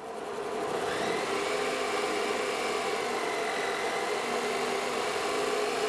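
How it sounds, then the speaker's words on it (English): A pulse motor running on 7 volts at 1 amp gives a steady, continuous whirring hum with a faint higher whine, constant in level and alone throughout with no voices. "So the way this motor is configured, it's only running a few amps."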